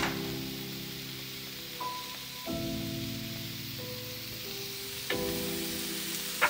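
Garlic sizzles and fries in a pan as it is stirred constantly with seasonings for creamy chicken and rice, a steady close crackle with a few sharp scraping clicks and no talk.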